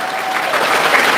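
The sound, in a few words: church audience applause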